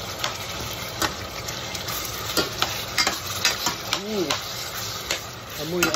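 Lamb meat sizzling in a hot pan for curry, stirred with repeated sharp spoon scrapes over a steady fry; a voice speaks briefly near the end.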